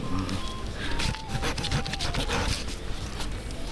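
A hand saw rasps back and forth through a hard cherry bonsai root in quick, rough strokes, close and fairly loud.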